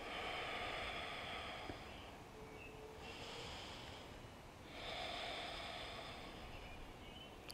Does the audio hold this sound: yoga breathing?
yes